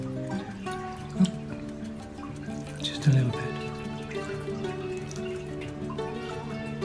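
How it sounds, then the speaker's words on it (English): Water is dripped onto a dried Rose of Jericho plant, giving a couple of small wet splashes over a soft tonal background as someone speaks briefly. "I'm just going to drop a little bit more water on it"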